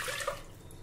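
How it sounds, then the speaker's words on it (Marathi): Water splashes and pours into a pressure cooker holding toor dal, a short, bright gush that is strongest at the start and then thins to a softer trickle. "आता यामध्ये आपण पाणी घालूया."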